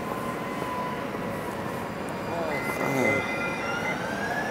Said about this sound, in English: That is an electrical fucking train.